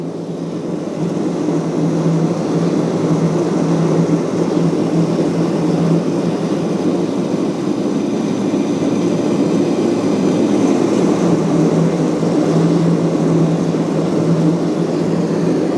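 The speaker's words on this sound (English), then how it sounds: "I'm going to adjust this air damper so you guys can see what the flame does when we adjust it" A gas ribbon burner forge roars in a steady, loud, broadband rush that holds fairly constant as its air damper is adjusted, with no voices.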